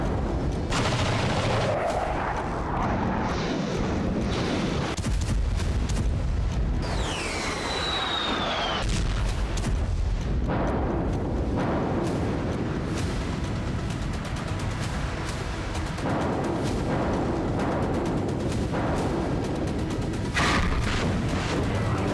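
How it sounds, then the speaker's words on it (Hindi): Explosions and artillery fire from the war in Ukraine boom repeatedly through dense, rumbling battlefield noise, with heavy blasts and crackling bursts overlapping continuously, loud and close. "अनगिनत धमाके,"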